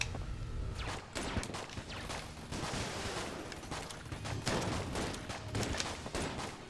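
Rapid gunfire from the twin-stick shooter Enter the Gungeon, a dense, continuous barrage of overlapping shots and bursts that stays loud and busy throughout, with no voices.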